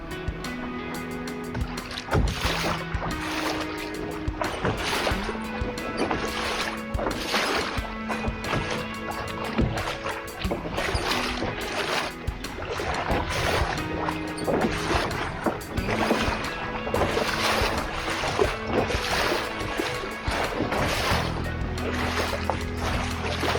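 A sailing boat running back up the River Tamar near Plymouth after a long beat to windward, with steady rushing water and wind noise along the hull and occasional knocks and thumps, continuous throughout.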